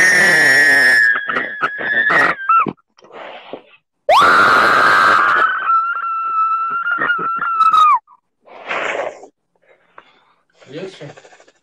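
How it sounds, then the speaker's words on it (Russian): A woman lets out long, loud screams during an emotional therapy session, two sustained cries separated by shorter gasps and sobs, close to the microphone, with quieter breathing sounds between. "Еще кричи."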